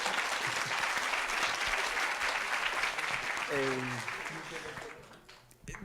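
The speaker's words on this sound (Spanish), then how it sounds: "muchas gracias, Yoko, un aplauso." An audience at an inspirational talk applauds with dense, steady clapping that slowly fades toward the end, as a speaker's voice briefly cuts in over it.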